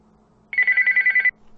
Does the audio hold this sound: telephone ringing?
yes